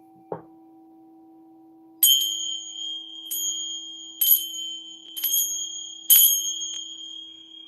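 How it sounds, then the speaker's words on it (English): Sacred chimes are struck one after another in a quiet room, giving five bright, ringing strikes spaced about a second apart, each one leaving a clear sustained tone. A steady low hum sits underneath, and a single soft knock comes before them. "I'm going to go ahead and use my sacred chimes to cleanse the area"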